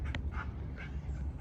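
A dog breathes hard in quick, excited bursts right up close, panting under the steady rumble of a running Storm 200 minibike with a 196cc engine.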